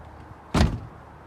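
A VW Golf TDI car door is shut with a single solid thud, close and fairly loud, followed by quiet stillness.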